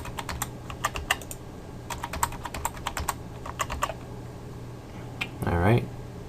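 Rapid clicking of keys on a computer keyboard as a password is typed, in quick bursts with short pauses, close and clear, followed by a brief louder thump.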